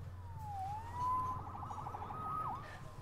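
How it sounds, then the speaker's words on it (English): A police siren in Marvel's Spider-Man wails and yelps, sweeping up and down in pitch over a low engine hum, moderately close. "Saved by the siren."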